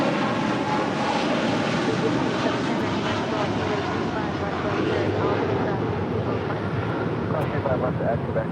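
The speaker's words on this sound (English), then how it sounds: "That is Nippon Cargo Airlines 101 departing to Tokyo Narita on a 747-8 freighter." A Nippon Cargo Airlines Boeing 747-8 freighter departs from LAX with a sustained, loud engine roar and broadband rumble, steady throughout with some wind buffeting and a voice talking over it.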